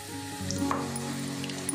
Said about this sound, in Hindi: घी अच्छा खासा गर्म हो रहा है, अब इसी में हम आटा डाल देंगे